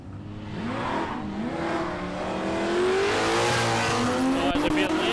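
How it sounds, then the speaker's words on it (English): Drag race car at Palmyra Raceway spinning its tyres as boost builds, a loud sustained engine roar with rising harmonic whine and tyre noise, with commentators talking over it throughout. "Spun the tyres as the boost come up."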